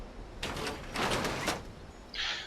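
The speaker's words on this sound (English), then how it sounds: "the door will open for a few seconds and then close again." A keypad-operated door in Fallout 76 slides open with a whooshing mechanical burst, then after a pause a shorter hiss as it closes, heard alone at moderate loudness.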